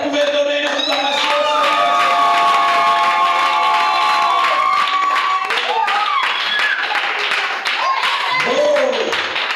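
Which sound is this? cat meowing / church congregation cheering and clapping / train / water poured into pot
church congregation cheering and clapping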